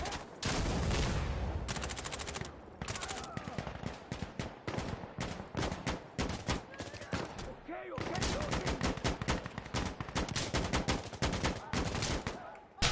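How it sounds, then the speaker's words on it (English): Rapid bursts of gunfire in a Battlefield-style multiplayer shooter, with machine-gun rattles and scattered shots during an assault on a capture point, loud and nearly continuous for the whole stretch, with players talking over it at times. "They're shooting at us."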